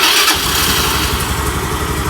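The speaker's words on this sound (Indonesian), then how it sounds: "Ini mesin udah hidup" A Kymco Easy 100 scooter engine starts and settles into a steady, loud mid-pitched running note close by.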